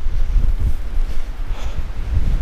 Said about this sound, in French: le vent m'emporte